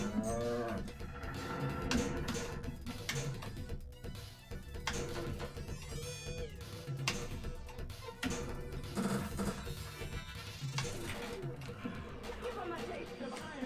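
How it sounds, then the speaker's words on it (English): Cartoonish cow moos from a video game pinball table, repeated low calls mixed into busy game music and effects, with a voice talking over parts of it. "There's my moo."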